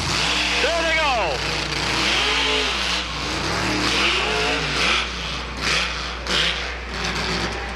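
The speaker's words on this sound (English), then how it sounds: "Simply Irresponsible up against Boris the Monster Truck. Chev against Ford. There they go." Monster truck Boris, a Ford, drag races against Simply Irresponsible, a Chevy, at a truck and tractor pull: loud engines rev and rise in repeated sweeping surges, with an announcer talking over the roar.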